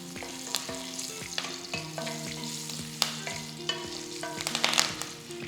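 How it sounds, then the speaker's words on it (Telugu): Curry leaves and asafoetida sizzling in hot tempering oil for tomato dal, a steady crackle with sharp pops and spatters, close and fairly loud, with no talking. "ఇంగువ వేసిన తర్వాత కొద్దిగా కరివేపాకు అది కూడా వేసుకుందాం"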